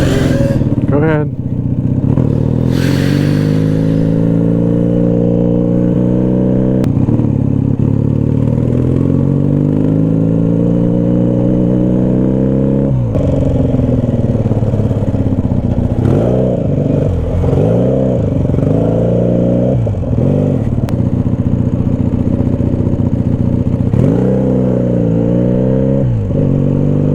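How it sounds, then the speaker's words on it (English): A motorcycle threads through city traffic in Seattle. The engine drones loud and close, with repeated revs and throttle swoops, and a rider speaks over the steady mechanical roar. "This is why you ride a motorcycle in Seattle."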